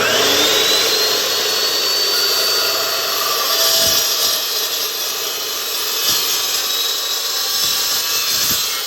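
Steady, loud whine of a power tool cutting through metal grill grates for a Weber Searwood pellet grill, running continuously with a few faint knocks and no talking.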